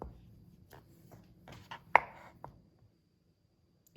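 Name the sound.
knife cutting a stick of butter into four pieces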